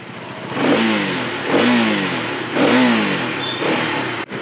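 Motorcycle engine revving close and loud, surging up in about four repeated throttle bursts with a rough, clattery mid-range drone between them.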